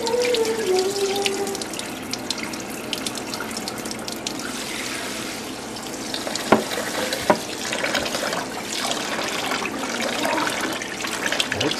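Cold tap water runs into a kitchen sink while rice is rinsed, a steady rushing splash lasting throughout, with a couple of brief knocks partway through.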